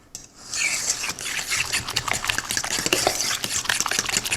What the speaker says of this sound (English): Then you just want to mix your banana and your pineapple together really well